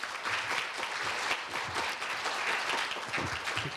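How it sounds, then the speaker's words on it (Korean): Applause from a seated audience at a university guest lecture, dense steady clapping heard close and alone throughout. "마음에 들면 박수 한번 치셔야죠."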